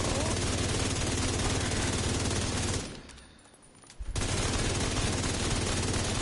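Rapid sustained automatic gunfire at a shooting range in the video game Striker, a dense loud burst that cuts out for about a second and then resumes just as heavily.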